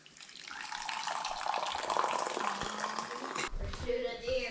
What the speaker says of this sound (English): Might as well pour some coffee and get started on that.